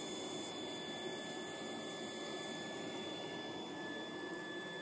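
Air flows through a safety pressure relief valve on an air blower, a constant faint hiss with a steady mechanical hum underneath and no change over the few seconds.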